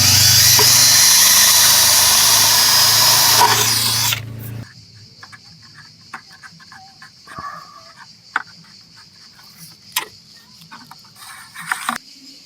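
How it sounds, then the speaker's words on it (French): A drill bores a small hole in a car body for tail light wiring, a loud high whining buzz for about four seconds that stops abruptly, followed by quiet light handling clicks and rustles. "On perce un petit trou."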